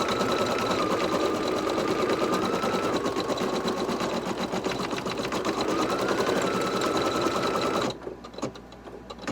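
A Brother Innov'is 1600E embroidery machine stitches an appliqué quilted design with a loud, rapid, steady mechanical chatter that runs continuously, then cuts off near the end, leaving quieter room sound.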